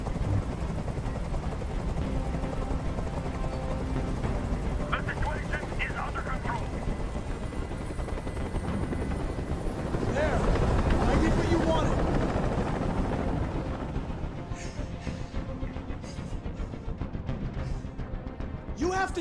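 A helicopter hovers overhead during a hostage standoff in the video game Detroit: Become Human, its steady rotor rumble and whine filling the scene beneath tense dialogue, swelling briefly in the middle.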